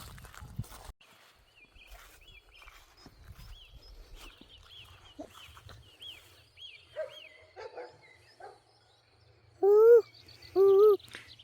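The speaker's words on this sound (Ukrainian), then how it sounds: "Собачка гавкає, да? Гавкає собачка." A dog barks twice, loud and close, near the end, after a stretch of scattered birdsong in a rainy Carpathian village at Vorokhta.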